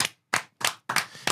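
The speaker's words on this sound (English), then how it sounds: "Clap it up." On a podcast, a few hands clap in four distinct, evenly spaced bursts, close and crisp, with silence between each clap.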